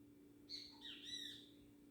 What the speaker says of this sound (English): I love the birds singing and making some good noise around.